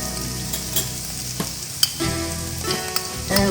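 Garlic and translucent onions fry in a pan for coq au vin as a spoon stirs them. The sizzle is steady and close, with scraping stir sounds and small pops, and no talking.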